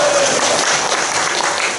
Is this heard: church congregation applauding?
yes